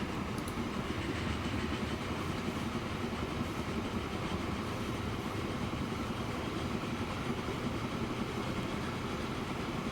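Freight train running in Transport Fever 2, a continuous steady rolling rumble at moderate level with no distinct beats, alone without talk.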